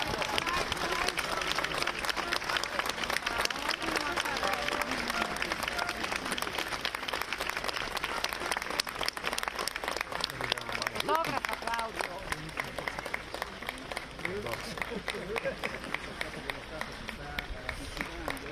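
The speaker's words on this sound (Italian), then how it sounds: "il capo dello Stato è sceso in questo momento. Sentiamo gli applausi" Sustained crowd applause for the Italian head of state during a visit to Carnia, dense and loud, continuing throughout with a murmur of voices mixed in.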